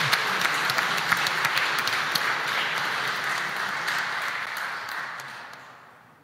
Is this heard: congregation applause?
yes